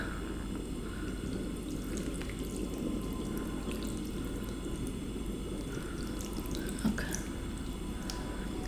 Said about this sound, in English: I'm going to add a little bit of my anchovie and kelp stock